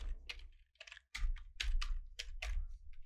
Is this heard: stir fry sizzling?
no